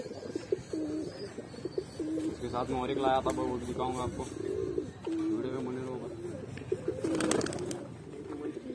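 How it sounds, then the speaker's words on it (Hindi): Pet pigeons, shown off as a prized pair, coo softly beneath a man's close, ongoing talk, their low calls rising in short bursts between his sentences. "बहुत शानदार कबूतर है"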